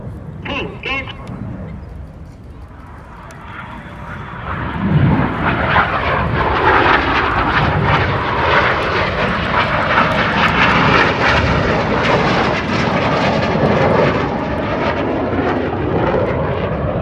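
Display jets of an airshow team roar past on a synchro double roll pass at Duxford, a broad rising jet rumble swelling loud after a few seconds and holding steady, with a commentator's voice over the top.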